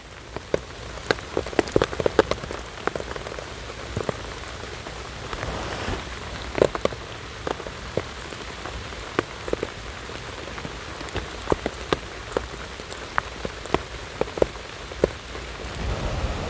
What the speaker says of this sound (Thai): วันนี้ฝนจะตกอีกแล้วค่ะ ต้อง รีบเก็บก่อนที่ฝนจะตกหนัก